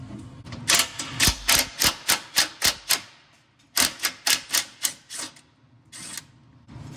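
Bolts coming off the radiator of a Freightliner 114SD truck, worked with rapid metallic ratchet clicks in two loud, close bursts separated by a short pause, with no talking.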